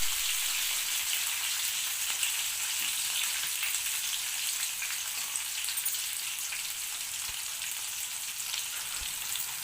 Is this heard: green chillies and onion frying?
yes